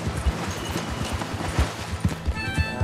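A horse's hooves clip-clop steadily in Red Dead Redemption 2, repeated close thumps in an even walking rhythm over soft background game noise.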